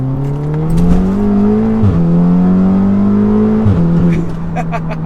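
A big-turbo Audi S3 running on E85 accelerates hard from inside the car, its engine droning and climbing steadily through the gears, with two quick shift dips as the pitch drops and rebuilds, loud and close.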